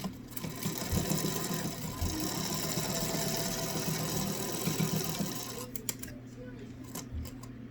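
A sewing machine stitching a seam along a fabric mask to form an elastic channel, a steady close mechanical whirr that stops near the end, followed by a few light clicks.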